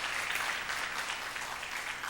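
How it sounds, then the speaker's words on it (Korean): A church congregation claps together during a Sunday afternoon worship service, a loud, continuous wash of applause that stays even from start to finish. "참 잘하셨다고 박수 한번 해주시기를 바랍니다."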